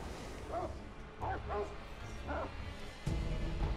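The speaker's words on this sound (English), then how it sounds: "that dog is making a lot of noise" A dog in the Sekiro video game barks repeatedly in short yips and bow-wows against a busy game soundscape, with a low rumble and a thump near the end.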